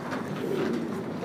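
Lahori pigeons at a pigeon farm give a soft, close, low cooing burble lasting about a second.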